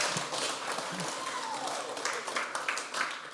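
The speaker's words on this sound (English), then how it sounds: "Can we give a round of applause for Chloe being on stage?" Audience applause in a church gathering, a steady wash of clapping from a crowd filling the few seconds, with some voices mixed in.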